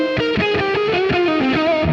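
Heavily distorted electric guitar through a Quad Cortex modeler on a British-style 2203 amp preset, playing a sustained lead line with shifting notes and bright overdriven harmonics, loud and continuous with no talking.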